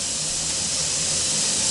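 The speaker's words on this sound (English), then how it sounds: "We're going to heat this up until steam comes out regularly out of here" A pressure cooker vent hisses steadily as it heats up for bone broth, a continuous, fairly loud broadband rush with no pauses, heard alone.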